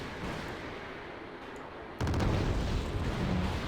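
An A-10 gun run in the video game Wargame: Red Dragon: a dense, continuous roar of rapid cannon fire and explosions that jumps louder halfway through and keeps going.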